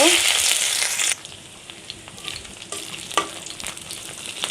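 Chopped garlic and onion drop into a hot pan with a loud, bright sizzle for about a second, then settle into quieter frying broken by a few stirring scrapes and clicks.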